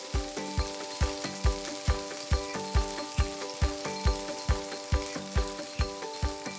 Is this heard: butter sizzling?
yes